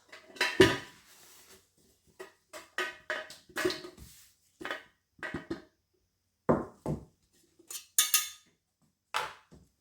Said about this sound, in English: get my wax out of my pot